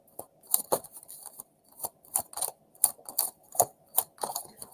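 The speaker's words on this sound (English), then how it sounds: "One more shuffle" Tarot cards are shuffled by hand in a series of quick crisp riffles and taps, roughly a dozen short bursts in an uneven rhythm, close and alone.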